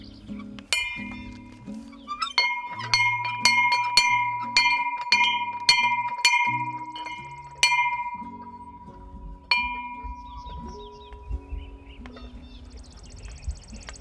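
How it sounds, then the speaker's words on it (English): An outdoor bell hung on a dug-in post rings in a series of bright, clear strikes, each ringing out and decaying, with a few slower, spaced hits toward the end. "he dug the hole and put this post in, and we hung the bell"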